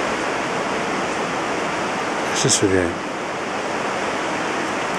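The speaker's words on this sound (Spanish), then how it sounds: "estamos en un río de montaña pequeño" A small mountain river flows steadily as a broad, constant rush of water, with a brief burst of speech partway through.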